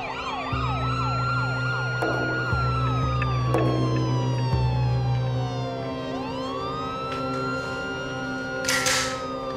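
Several police and ambulance sirens wail and yelp together at an emergency scene where a gunman fired shots, loud and continuous with rising and falling tones, a low engine drone underneath and no speech.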